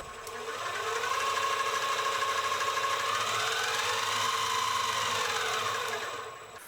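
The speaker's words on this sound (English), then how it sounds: "You know, those gears are pretty darn loud." Spindle gears on a CNC 7x12 mini lathe of Sieg origin running at low speed: a steady loud mechanical whine and gear chatter that ramps up, holds evenly for several seconds, then winds down.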